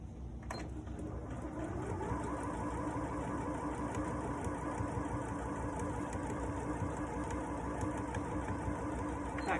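Sewing machine back stitching a baby blanket, its motor whirring in a fast, steady rhythmic run throughout, close and alone.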